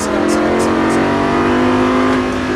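A Lamborghini Gallardo engine revs hard and accelerates, a loud sustained roar that holds steady and close throughout.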